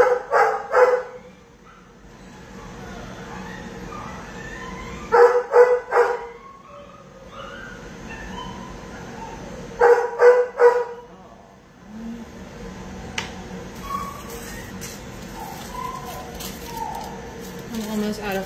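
Dog barks in a grooming shop, coming in three short bursts of several barks each, a few seconds apart, with quieter background noise between them.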